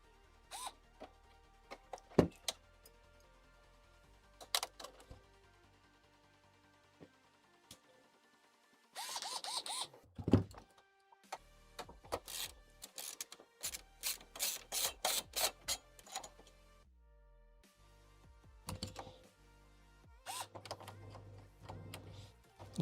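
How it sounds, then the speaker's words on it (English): Screws come out of a PS5 console, heard as scattered clicks, scrapes and rasping bursts of a screwdriver working, with a busier stretch of rapid ticking in the middle, quiet and close, with no voices. "we just got a bajillion screws to remove"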